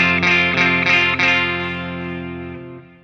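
An ESP Cygnus electric guitar with a hot pickup and a bright, biting treble rings out in several strummed chords, then one long chord sustains and slowly fades, with a processed, chorus-like shimmer and no voices.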